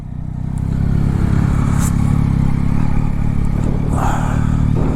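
A Yamaha MT-09 motorcycle engine rumbles steadily as the bike pulls away, with a low throaty drone and faint clatter throughout.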